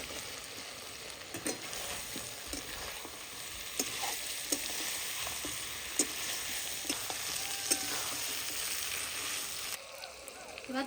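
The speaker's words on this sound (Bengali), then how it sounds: "এবারে দিয়ে দিব টমেটো কুচি, মশলা দিয়ে কষানো।" Chopped tomatoes with spices fry and sizzle steadily in a pan, a continuous close crackle broken by occasional sharp ticks and stirring scrapes, with no talk over it.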